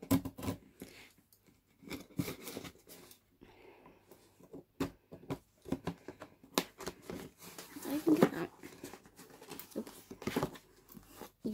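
Someone opening a taped cardboard subscription box for a fandom unboxing, with irregular tearing, crinkling and rustling bursts scattered across the clip and a voice talking between them.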